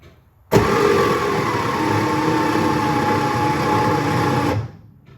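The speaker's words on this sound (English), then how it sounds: "Let's try and hit the starter and see if it'll just spin over." Starter motor on a flooded 1965 Chevrolet Corvair 110 Monza, long-sitting, with a fresh battery and new oil, spins the engine over in one continuous, loud, even whirring crank of about four seconds that stops abruptly, with no firing and no voices.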